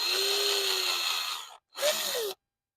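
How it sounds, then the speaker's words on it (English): A small drill bit pre-drills holes in pallet wood for guitar tuners, two short bursts of high-pitched motor whine, the first longer and steady, the second shorter with the pitch rising and falling. "So now we're going to pre-drill some of these holes, or all of the holes."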